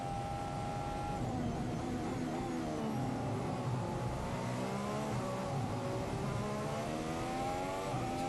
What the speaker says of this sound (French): La Ferrari toujours la voiture la plus rapide en ligne droite.